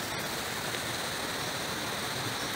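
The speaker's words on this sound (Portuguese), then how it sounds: "Primeira cachoeira do dia!" A waterfall beside a hiking trail at Cerro Chirripó, Costa Rica, gives a dense, steady roar of rushing water that fills the scene evenly from start to finish, with no voices.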